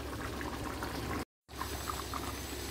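Chicken curry boils in a pot with a steady, close bubbling and gurgling that breaks off briefly in the middle, then carries on, with no one talking.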